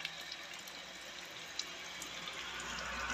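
Water trickles steadily through the staves of a wooden pálinka barrel being swelled so it stops leaking, a soft continuous splashing with faint drips, no voices.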